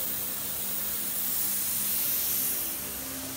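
An airbrush sprays paint in a steady, even hiss of air, close and constant for a few seconds with no talking.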